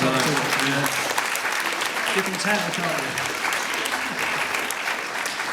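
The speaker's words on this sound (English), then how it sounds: "Round of applause, I think." An audience claps steadily in a continuous round of applause while someone talks over it.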